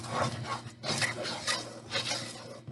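Beaten egg yolks stirred in a bowl for banana pudding, a close, rhythmic scraping and swishing of a utensil against the bowl in four or five even strokes, with no talking.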